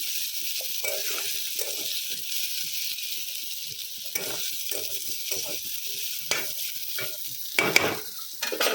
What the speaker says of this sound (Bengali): একটু কড়া করে ভেজে নিলাম